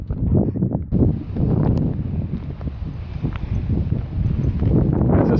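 Strong gusting wind buffets the microphone on a forest walk in John Forest National Park, a loud low roar rising and falling continuously with faint rustling underneath.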